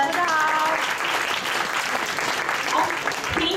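A seated audience at a handover ceremony of a regional youth corps committee breaks into a sustained round of clapping, close and steady, with some voices mixed in.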